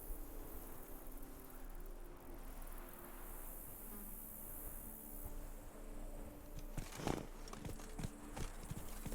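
Horse Roach trotting in The Witcher 3, soft rhythmic hoof clip-clops over a quiet ambient bed of buzzing insects, with a brief louder burst of hoof impacts near the end.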